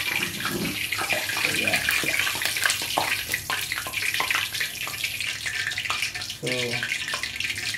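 Water pours and splashes steadily from food being drained in a kitchen, a loud rushing flow throughout, with someone speaking briefly over it.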